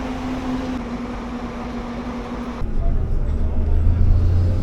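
Bus station traffic in Puerto de la Cruz, Tenerife: a steady engine rumble with a droning tone, shifting to a louder, rougher idling rumble partway through, with no clear voices.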